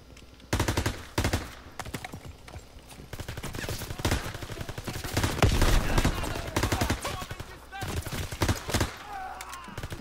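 Rapid bursts of automatic gunfire and single shots ring out in Call of Duty WW2 gameplay on Xbox One, loud and dense with short pauses, while people talk excitedly over the shooting.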